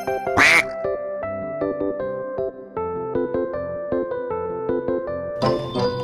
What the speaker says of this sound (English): Okay, Peppa, I'll ride the yellow duck.